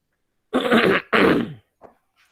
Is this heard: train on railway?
no